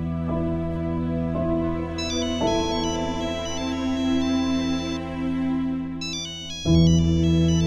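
A telephone ringtone plays a steady electronic melody over and over, loud and close, ringing on unanswered with no voices over it, set amid the tense household scenes of a Pakistani television drama.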